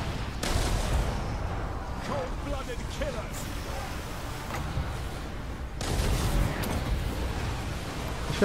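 Battle gunfire in the strategy game Total War: Warhammer II during a siege at a city wall, with bursts of shots and impacts over a dense, continuous din of combat, stronger near the start and end.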